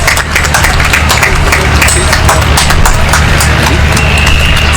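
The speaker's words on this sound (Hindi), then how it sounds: "वो बेचारे खुद अपने लिए तालियां बजा रहे हैं यार" An audience at a university job fair panel claps steadily while souvenirs are handed to guests. The applause is dense, loud and continuous, with sharp individual claps standing out against the crowd.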